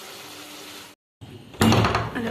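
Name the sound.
door being closed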